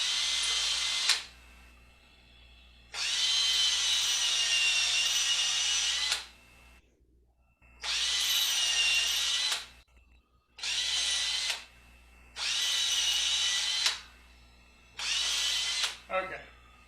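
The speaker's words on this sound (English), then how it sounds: "all the holes are drilled through" An electric drill boring holes through wood for a salt shaker, running in five long whining bursts with short pauses between, close and loud.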